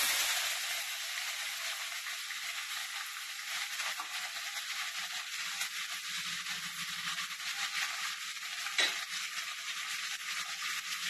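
Tempering of curry leaves and drumstick leaves fried in hot oil in a pan makes a loud, steady sizzle and hiss that runs without pause throughout, with no talking.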